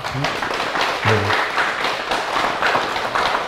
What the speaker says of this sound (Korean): 이럴 때 하나님께 박수 한번 쳐야 돼요